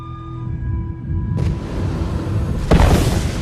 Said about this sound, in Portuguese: Esses tiros produzem uma onda de choque, podemos ouvir o seu barulho.